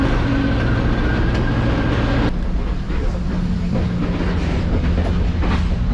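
A heritage passenger train at the Southern Appalachia Railway Museum, with a GP38-2 diesel locomotive at the rear, rolls along the rails with a steady, close, heavy rumble and continuous wheel clatter, and no voices over it.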